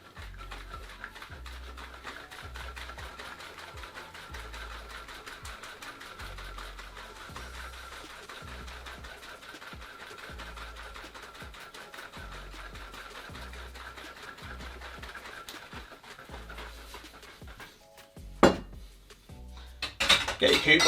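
Cocktail shaken hard in a shaker to build foam, a steady rhythmic rattle of ice and liquid repeating about twice a second for most of the clip, then a few sharper knocks near the end.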